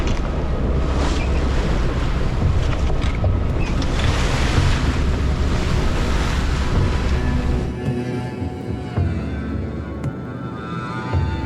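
A sailing boat at sea off Iceland near huge mountains, with a steady roar of wind and surging water washing around the hull, loud and continuous, with no voices.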